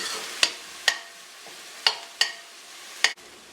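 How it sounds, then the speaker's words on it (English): A spoon stirs an okra and tomato stew in a pot, making about five sharp, separate knocks and scrapes against the side, each fading quickly into quiet, with no talking. "So give that another quick stir and let that gently go there for about a minute or 2."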